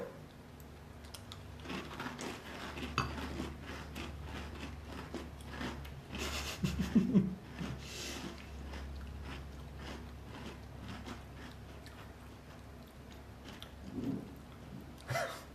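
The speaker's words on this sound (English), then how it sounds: "First spoonful of Sour Patch Kids cereal." Sour Patch Kids cereal scooped and eaten with a spoon, soft crunchy chewing and small clinks close to the ear, with quiet mouth sounds between bites.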